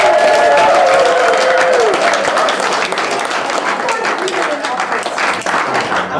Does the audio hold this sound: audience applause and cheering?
yes